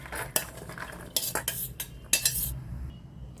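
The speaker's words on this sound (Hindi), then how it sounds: "एक हम बर्तन लेंगे, उसमें बॉयल किया हुआ चना डालेंगे।" Boiled chickpeas are spooned into a metal bowl in a home kitchen, giving a few sharp clinks and scrapes of spoon on dish, close and clear with no talking.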